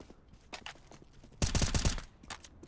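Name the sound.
gunfire in CS:GO video game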